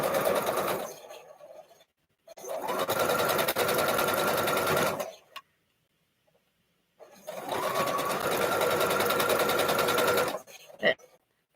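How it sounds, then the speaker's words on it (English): A sewing machine stitching the seams of a Spools & Stars quilt block, running in two long steady bursts with a rapid even whirr and a short pause between them, then a brief clack at the end; no one talks. "So now I start sewing, and then make sure my seams stay the correct way."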